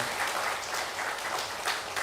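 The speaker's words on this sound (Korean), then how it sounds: "우리 축하하고 격려하는 마음으로 박수하시겠습니다." A church congregation applauds during a worship service, a brief steady patter of many hands clapping at moderate volume with no voices over it.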